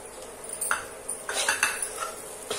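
A metal spoon clinks and scrapes against a pan in a quick irregular series of bright, close knocks as raw peanuts with salt are stirred and roasted for a peanut curry.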